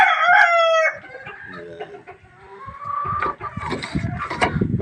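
Caged chickens close by: a rooster crows loudly at the start, then hens cluck and mutter in a busy, overlapping jumble with a few sharper calls.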